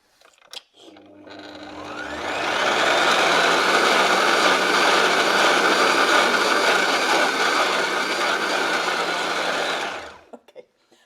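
A blender whirs steadily for several seconds, grinding unsalted peanuts with a pinch of fleur de sel into peanut butter in a jar, rising from a brief start to a loud, even drone before cutting off.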